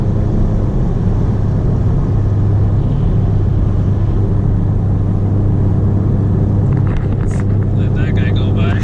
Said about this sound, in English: Some cars go by